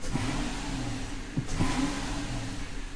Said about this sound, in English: we'll hit the gas to see if it flickers